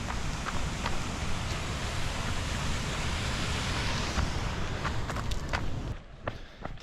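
A waterfall rushes beside a mountain trail during the Eiger Ultra Trail, a loud, steady broadband roar that fills the whole scene and eases slightly near the end, with faint footsteps mixed in.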